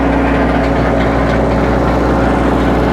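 Tractor engine running steadily as it drives a BX42S branch chipper, a loud, constant low rumble with a slight knocking vibration and no pauses.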